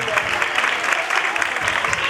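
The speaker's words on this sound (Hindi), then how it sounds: "जोरदार तालियां इनके लिए बजाई जाएं।" Church congregation at a Christmas service claps vigorously for its pastors, a steady, dense patter of applause lasting a couple of seconds, loud and close.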